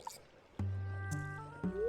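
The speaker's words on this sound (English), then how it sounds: "my cauldron is bubbling with ingredients from the forest" A magic cauldron bubbling in the Stardew Valley video game gives a few soft, wet bloops and drips, each followed by a sustained tone, close and alone.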